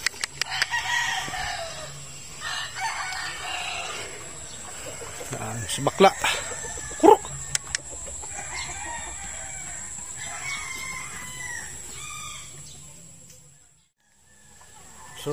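Backyard chickens clucking around a small yard, with scattered close calls and a few louder squawks, while someone talks over them.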